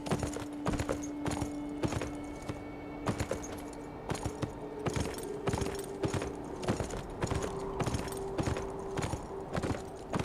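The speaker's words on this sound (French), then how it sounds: "déjà on peut monter à cheval" Horse hooves clip-clop in a steady walking rhythm in the video game Beyond: Two Souls, a series of close, crisp knocks over a faint tonal background, with no talking over them.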